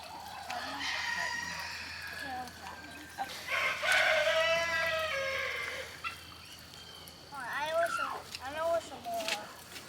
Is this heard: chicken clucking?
yes